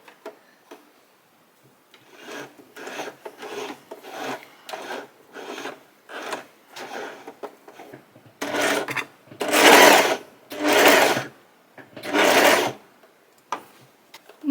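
A Brother 734DS overlocker serger runs in a series of short bursts, with the later bursts longer and louder as it stitches, separated by brief pauses.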